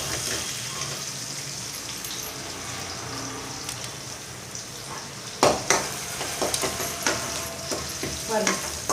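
Onions are sautéed in a pan for a dried fish curry, a continuous sizzle under repeated spatula scrapes and stirring knocks that grow sharper toward the end.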